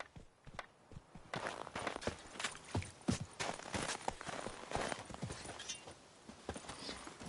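The horse Roach's hooves clatter in a quick galloping clip-clop in The Witcher 3, steady and close across the whole stretch without speech.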